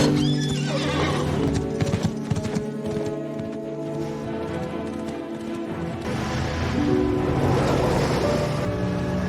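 A ridden horse gallops with a rapid, steady clip-clop of hooves and a loud whinny near the start, the hoofbeats continuing throughout against a busy backdrop.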